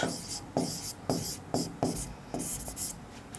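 A chemical equation is written on a board in quick strokes, each a short scratchy rasp, repeated in an uneven rhythm of about eight marks, close and clear, with no talking.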